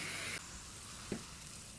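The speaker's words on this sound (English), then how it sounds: "Tadka is ready, which will go straight on top of the pulao" Hot tadka of curry leaves and cumin seeds sizzles loudly as it is poured onto pulao, a steady bright hiss with a brief sharper crackle partway through.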